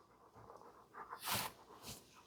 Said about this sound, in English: everybody can hear you breathing